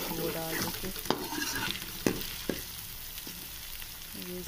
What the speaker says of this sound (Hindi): अदरक लहसुन का पेस्ट। इसको हम भून लेंगे अच्छे से।